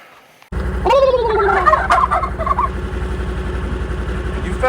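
Turkeys gobble loudly and repeatedly in a burst of warbling calls over a steady low engine idle.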